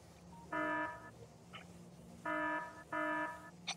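Alarm from the factory-building game Factorio: three short, loud, harmonic buzzing tones, the second and third close together, over a quiet low hum.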